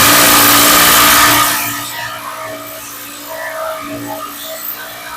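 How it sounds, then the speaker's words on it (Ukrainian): A Grosser GID 230N cordless impact driver sets a screw with a loud, steady high whine for about a second and a half, then cuts off, leaving quieter room noise and faint handling sounds. "Зараз я докручу цей шуруп одним пальчиком, не напрягаючись."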